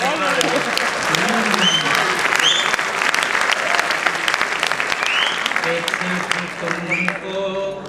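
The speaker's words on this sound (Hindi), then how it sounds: "ताली जोर से बजाओ यार" At a poetry gathering in Indore, the audience breaks into loud, sustained applause for several seconds, with voices calling out amid the clapping before it thins toward the end.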